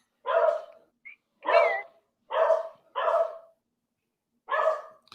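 A pet dog named Max barks in five loud, close bursts with pauses between them, plus one short yip, alone with no talk over it.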